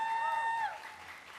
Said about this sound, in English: I'd like you to clap for them for the support that they've given you over the years